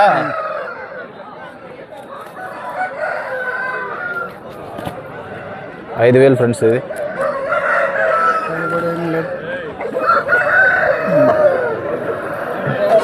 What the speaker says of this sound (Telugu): కోడి నెమ్మిలి